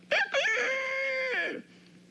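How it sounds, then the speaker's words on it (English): One loud rooster crow: a sharp opening burst, then a long strained note that holds steady before it trails off. No other sounds around it. "sounds like a rooster"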